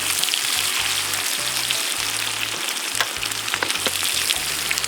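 A Hanwoo beef steak sizzles loudly and steadily on a grill beside a mountain valley stream, with close, crackling spits and pops over a low, uneven background rumble.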